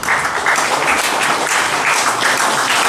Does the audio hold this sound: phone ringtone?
no